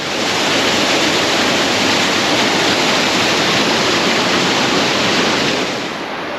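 A rushing mountain creek in the Southern Alps of New Zealand, loud and close. It is a steady, dense roar of water that continues without a break, with no voices.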